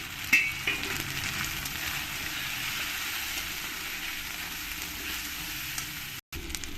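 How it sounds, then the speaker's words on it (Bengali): Vegetable kurma spices frying in a pan make a dense, continuous sizzle, with a few faint stirring scrapes near the start, close and steady, broken by a brief cut just before the end. "ভালো করে নাড়িয়ে চাড়িয়ে আমি একটু কষিয়ে নেবো"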